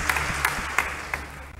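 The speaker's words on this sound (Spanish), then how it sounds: "Démosle un aplauso a la Francia y a los Francisco en su día." A congregation applauds during a Catholic Mass in church, a short burst of steady clapping from many hands filling the room for under two seconds.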